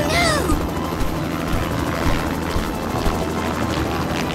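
A cartoon helicopter flies with a steady, loud rotor chop and engine drone, continuous throughout, with a brief high whooshing sweep at the start.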